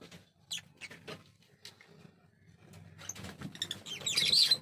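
Ringneck parakeet chicks in a breeding box give faint, scattered chirps and soft rustling close by, swelling into a louder burst of high peeping near the end.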